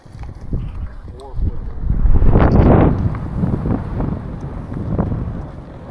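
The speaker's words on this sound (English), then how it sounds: "Kind of sucks that it got so windy." Wind gusts buffet the microphone at a mountain bike park on opening weekend at Bryce Bike Park, a rough, loud low rumble swelling in the middle, with voices talking underneath.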